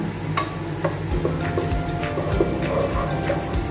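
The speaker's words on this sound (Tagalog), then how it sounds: "Haluin natin ng konti." Chopsuey with shrimp stirred in a pan, a steady sizzle of frying under light scraping and clinking of the utensil against the pan.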